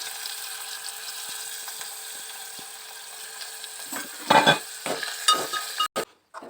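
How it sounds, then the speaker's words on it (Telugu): Dried small fish frying in a pan, a steady sizzling hiss with louder crackles and stirring scrapes toward the end, close by, with no speech. "అలాగే అదే ఎండి మెత్తలు అవి ఫ్రై చేసుకోవాలన్నమాట. సో ఫస్ట్ అవి నేను ఫ్రై చేసుకుంటున్నాను."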